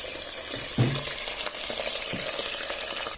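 Onions frying in a pan for meat-stuffed briouats, a soft steady sizzle with a few spoon scrapes and light clinks against the pan, close and moderately loud without speech.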